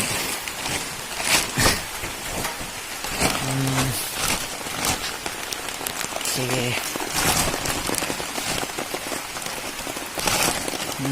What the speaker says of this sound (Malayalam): വീണ്ടും മഴ